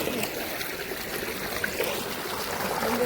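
Water pours steadily as a container is filled, a continuous splashing trickle that holds at an even level for the whole span, with no voices over it.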